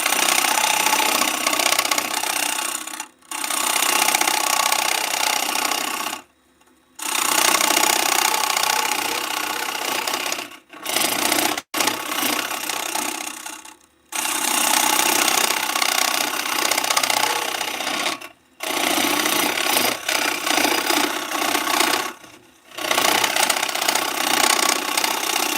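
A wood lathe turns a piece of Tree of Heaven wood, with loud, continuous close-up grinding and whirring of the cut in long runs, broken by several short pauses.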